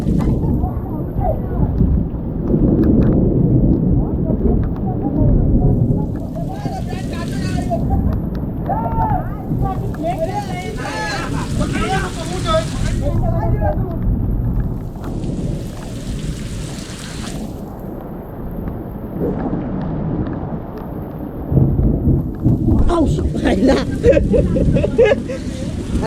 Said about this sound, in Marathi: वर तो गडगडता